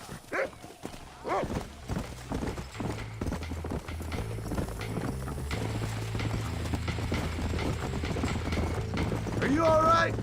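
Horse hooves gallop in Red Dead Redemption, a steady rhythmic clip-clop close and loud, with music and voices talking over it and a brief whinny near the end.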